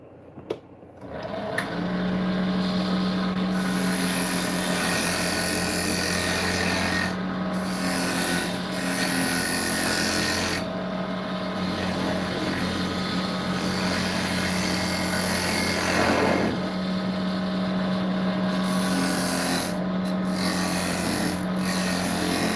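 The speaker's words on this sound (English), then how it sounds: "we're going to cut our reverse mortise on the inside of it" Steady power-tool whine with a strong hum, rasping and rubbing as a reverse mortise is cut into the inside of a wooden piece, running continuously with brief dips and no talking.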